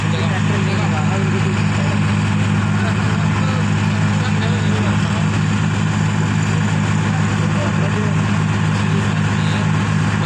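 Tractor engine droning continuously during a tochan tug-of-war contest between a 48 HP and a 39 HP tractor, apparently Sonalika 50 and Sonalika 35 Yodha, in Badina; a loud, steady low rumble persists throughout, with crowd voices mixed in.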